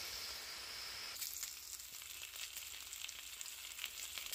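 Pork belly sizzles and fries in a pan without oil, a steady close hiss that grows busier and crackles more after the first second, with no voices over it.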